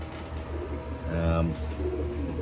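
Pigeons cooing in a loft of young birds, a steady low layered cooing with a louder burst near the middle, under quiet voices and background noise.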